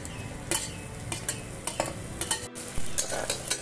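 Tomato and onion sautéing in hot oil with curry leaves for Bhogi vegetable curry, a steady close sizzle broken by a run of sharp scrapes and clinks as a spoon stirs the pan.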